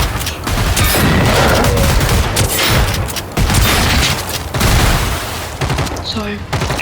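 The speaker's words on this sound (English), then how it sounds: "I'm about to shoot a shotgun" A shotgun fires in the video game Generation Zero: loud, dense, booming gunfire with heavy blasts and continuous combat noise that fills the whole stretch.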